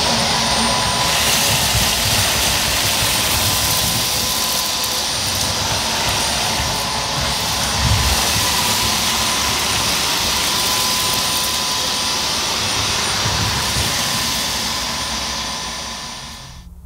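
A Dyson Omniglide Plus cordless vacuum cleaner runs steadily and loudly, a constant high-pitched motor whine with broadband airflow rush, alone and close, fading slightly at the end.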